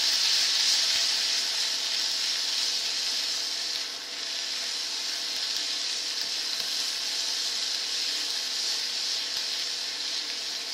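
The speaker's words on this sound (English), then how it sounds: "let's give it a stir" Ginger paste and spices sizzle steadily in a hot, fairly dry pan with a little olive oil, a continuous close frying hiss with faint stirring scrapes mixed in, no talking.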